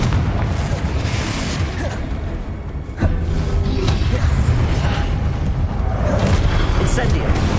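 Confringo blast spell from Hogwarts Legacy erupts in a loud, sustained booming roar with a sharp burst near the middle, heavy rumble filling the clip amid dense game combat noise.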